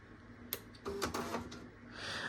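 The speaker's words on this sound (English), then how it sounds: "I have to shut the printer off, turn it back on." A Tandy DMP133 dot-matrix printer powers back on, giving a few quiet mechanical clicks and short whirring bursts as its head and carriage reset, then a soft hiss.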